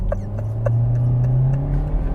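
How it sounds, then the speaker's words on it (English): A 2020 Hyundai Elantra is launched from a brake-torque start: a steady engine drone holds and swells slightly under a few faint clicks and thumps, heard from inside the car with no talk. "This time I'm gonna brake torque it. So put my foot on the brake and floor it."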